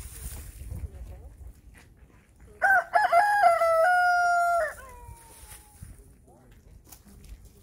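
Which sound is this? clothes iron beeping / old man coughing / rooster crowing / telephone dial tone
rooster crowing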